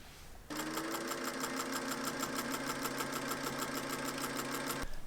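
A sewing machine runs steadily for several seconds stitching the inseam of pajama pants, a fast even rhythmic whir close by, starting and stopping cleanly with no talk.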